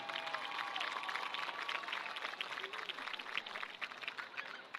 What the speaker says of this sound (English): Let's have another big round of applause for all of your cheer seniors.